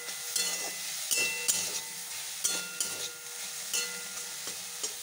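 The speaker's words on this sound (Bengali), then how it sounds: "আমার হয়ে গেছে 14 শাক ভাজাটা।" Fourteen kinds of leafy greens fry in a pan under a soft, steady sizzle, with a spatula stirring and scraping in a slow, regular rhythm of about one stroke per second; no one speaks.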